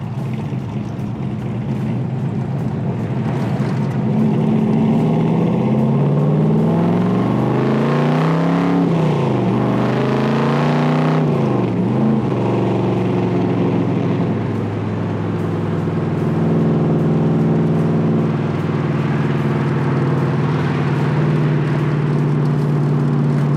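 A 1964 big-block Corvette convertible engine runs steadily at around 2,000 RPM, loud and close, with a deep throbbing idle and a brief rev that rises and falls midway.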